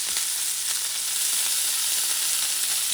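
Continuous crackling sizzle of chuck eye steak frying in a pan, steady and close, with small pops scattered through the hiss and no voices.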